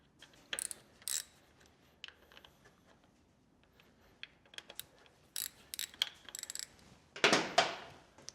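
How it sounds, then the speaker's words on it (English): A ratchet with a T27 Torx bit breaks loose the screws on a 2005 Harley-Davidson Softail Springer derby cover: close, sharp clicking bursts spaced irregularly, with a louder rattling run of clicks near the end and no talk. "This is going to take a T27 Torx bit. And go around and break all these free before you actually go take them off."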